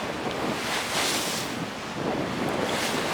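Sailing boat pushing at about six knots into a lumpy sea in 19 knots of wind off a windy coast, with steady roaring gusts buffeting the microphone over continuous hissing spray and wave wash.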